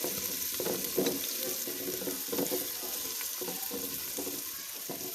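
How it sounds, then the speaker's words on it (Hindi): Steady sizzling of ginger and garlic frying in hot oil, with soft scraping and stirring noises over a constant hiss. "अदरक लहसुन को हमने 1 से 2 मिनट तक फ्राई करना है"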